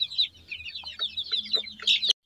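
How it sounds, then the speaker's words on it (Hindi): Young Sonali chicken chicks on a Jharkhand poultry farm peck and cluck while picking at grain, a close, busy patter of soft high chirps and clucks continuing with no talk over it. "देखिए मुर्गियाँ किस तरह दाना चुन चुन कर खा रहा है"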